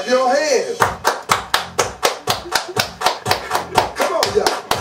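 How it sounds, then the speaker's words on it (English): A group at a Cha Cha Slide dance claps in unison over the music, a strong, regular beat of sharp claps about four times a second, with a voice singing or calling just before the clapping starts. "Everybody clap your hands."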